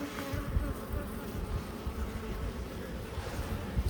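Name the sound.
honeybees buzzing around an opened hive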